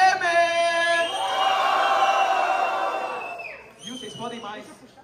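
A packed crowd at a Batalha dos Estudantes rap battle in Guarulhos, Brazil, yells, whoops and bellows loudly and steadily, easing off after a few seconds before a fresh burst of shouting.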